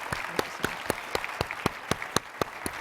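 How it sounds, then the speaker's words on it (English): A small audience at a talk on the opioid epidemic claps sparsely, with distinct, spaced individual claps in an uneven rhythm, fairly quiet and close, no voices over it. "Can we give Dr. Stoops and Dr. McHugh a big round of applause and appreciation?"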